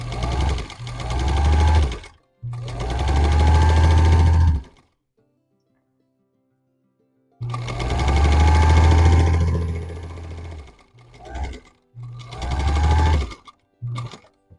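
A sewing machine stitches a quilt block in several bursts of steady, fast whirring, each starting and stopping abruptly, with a long quiet pause in the middle; no talking.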